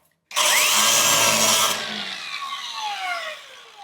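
A cutting disc slices through a quarter-inch metal piece while fitting the front bumper on a 1937 Lincoln Zephyr, a loud steady grinding whine that starts abruptly, holds for over a second, then eases into a fading spin-down.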